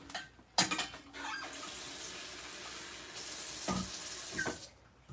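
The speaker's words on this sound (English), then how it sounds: "I'm gonna put water in it now." Water runs from a tap into a bowl to make an ice bath in a kitchen, a steady splashing pour with a few clinks of dishes at the start and end.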